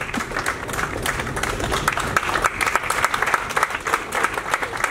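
An audience at a stage play bursts into loud, sustained applause, a dense wash of many hands clapping for the whole stretch, with a few voices in the crowd mixed in.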